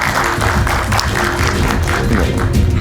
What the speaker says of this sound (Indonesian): Kita berikan tepuk tangan sekali lagi Bung San Salvator.